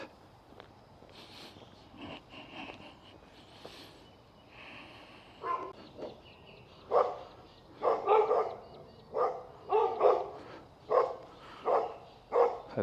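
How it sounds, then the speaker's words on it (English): Several dogs bark in a residential area of Innisfail, Australia, starting faint and distant and then building into a regular series of louder barks. "Hopefully those dogs are behind fences."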